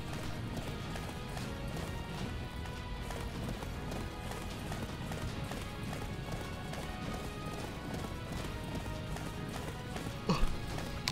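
A horse gallops in the Attack on Titan video game, its hooves pounding in a fast, steady rhythm throughout, with a short snort or whinny near the end.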